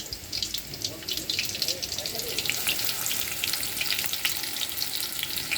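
Onions frying lightly in a pan give a steady, close crackling sizzle with bright spitting pops that runs throughout without pause, while faint watery sounds sit underneath.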